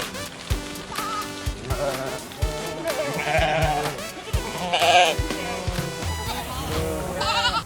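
Sheep in a transport vehicle bleat over and over, with several animals calling in overlapping, wavering cries at close range and steady rumbling and clattering beneath them.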